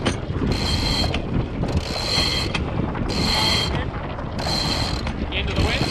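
On a sailboat, the anchor chain is let down in repeated bursts of metallic rattling and clanking. The bursts come roughly every second, with wind and water noise underneath.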